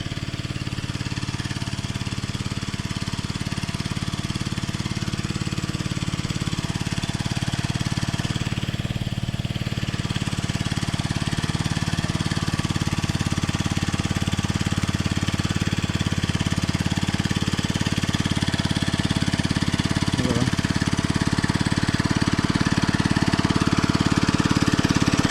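A petrol engine runs steadily on a Konkan farm, a continuous mid-pitched drone with a faint knocking edge that holds at a constant level throughout, close by and alone without speech.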